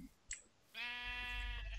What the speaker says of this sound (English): You What? hear them? What? Look at these jungle sheep.